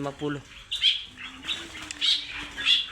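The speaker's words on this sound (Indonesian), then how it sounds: "Dan di sini ada kutilang mas 2 ekor" Two kutilang mas birds give sharp, high chirps in a quick, irregular series, close and clear, after someone speaks briefly at the start.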